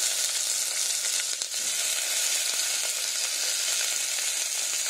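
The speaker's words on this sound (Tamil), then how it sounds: "கடுகு வந்து பொரிய ஆரம்பிச்சிச்சு, இப்போ வெங்காயத்தை போட்டுக்கலாம்." Mustard seeds, onion and tomato frying in oil for banana stem soup, a steady close sizzle and crackle running without a break, with a brief clatter from the pan partway through.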